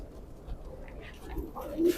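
Male teddy pigeons coo softly in a loft, a few low murmuring calls rising near the end over a quiet background.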